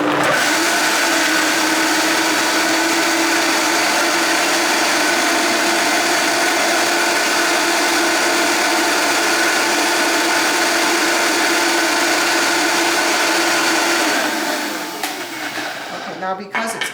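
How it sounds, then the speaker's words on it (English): A Vitamix blender runs at full power, whirring loud and steady as it purees tofu, cashews and light agave nectar into mayonnaise, then its tone shifts and winds down near the end. "all you do is blend it in your Vitamix"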